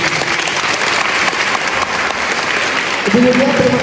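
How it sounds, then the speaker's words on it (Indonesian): Loud, dense audience applause fills a hall during an Indonesian immigration public lecture, steady throughout, with a voice starting to speak over it at the end. "Saya minta berikan tepuk tangan yang paling meriah untuk Ibu Julia."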